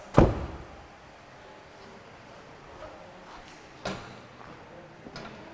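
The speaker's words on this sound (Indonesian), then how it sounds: "Oke, sekarang ini sudah terbuka, saya akan tutup secara keras." The boot lid of a 2020 Daihatsu Ayla is slammed shut hard, giving one loud, close thump at the start, followed by a few faint knocks and clicks in an otherwise quiet space.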